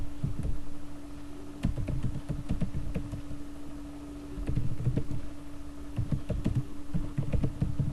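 Rapid irregular keystroke clicks from typing on a computer keyboard, close and steady over a low background hum, with no talking.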